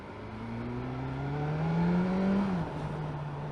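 BMW S1000R inline-four sport motorcycle engine revs up in a rising, smooth harmonic whine that climbs steadily, then drops abruptly back to idle; loud and close, no talk.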